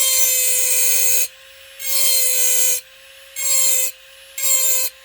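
Rotary eraser tool buffing over an engraved glass bottle, a high, steady whirring rub that starts and stops in several bursts of about a second each, with a constant motor hum running underneath throughout.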